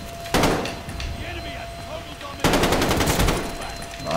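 KG M40 rifle fire in a shooter video game, two loud rapid bursts of shots, each lasting under a second, with quieter game ambience between them.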